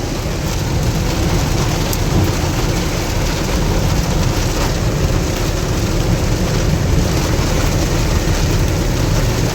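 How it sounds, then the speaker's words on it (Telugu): A sudden downpour of heavy rain hisses loudly and steadily on surfaces along the road to Rajahmundry, with thunder rumbling low beneath the constant dense roar throughout. "దన వచ్చేసింది ఒకేసారి వెంటనే వాన."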